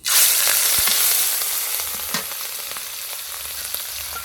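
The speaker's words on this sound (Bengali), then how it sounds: "চিংড়ি মাছ কটাকে একটু ভালো করে ভেজে নিচ্ছি" Prawns fry in a hot pan with turmeric and salt, giving a loud, steady sizzle that bursts up sharply at first and then settles into a continuous crackle with occasional stirring knocks.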